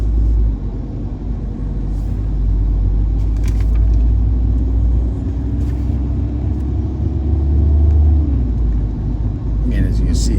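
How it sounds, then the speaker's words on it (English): A car driving through a residential neighborhood, heard from inside the cabin as a steady low engine and road rumble, with someone talking over it throughout. "now I'll take a drive through our first neighborhood here"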